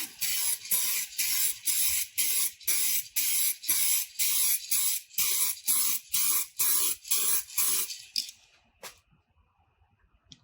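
An aerosol can sprays a second coat onto a faded car headlight in about fifteen rhythmic short bursts, loud and close, then stops and leaves near silence.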